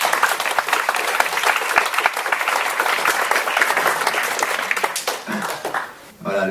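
An audience at a book launch evening for a comic album bursts into sustained loud applause, dense clapping filling the room with voices mixed in before it tapers off at the end.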